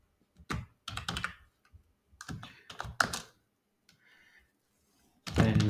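Computer keyboard keys clattering in quick irregular bursts of typing with short pauses, close and fairly quiet, ending in a denser run of keystrokes.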